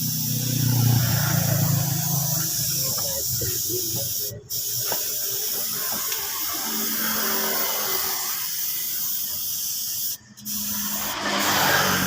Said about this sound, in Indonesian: kita semprot clear kurang lebih 3 kali semprotan agar lebih awet dan lebih tebal